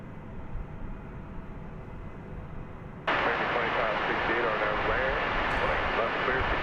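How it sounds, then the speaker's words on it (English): American Airlines Airbus A321 jet on the runway at Dallas Fort Worth at night, a steady distant engine rumble that abruptly swells into a loud roaring takeoff thrust partway through. "Here is American Flight 2568 going to San Diego. An Airbus A321."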